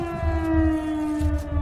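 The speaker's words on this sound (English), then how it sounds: "Bro, what's that siren?" Siren Head's wailing siren in the Roblox game Criminality, a loud, steady, sustained tone with rich harmonics holding level across the whole moment, with rumbling game noise underneath.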